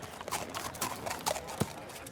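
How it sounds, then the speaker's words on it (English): A prince's horse clip-clops in an animated folk tale as a short run of uneven hoofbeats, with a faint low snort or thump near the end. "And the prince took his horse."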